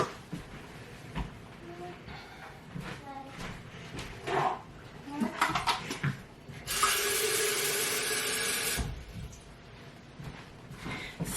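Water running from a kitchen faucet for measuring room-temperature water, a steady rushing stream for a couple of seconds amid household clatter and people talking.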